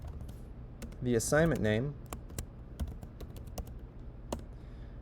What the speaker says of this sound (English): I'm going to type in here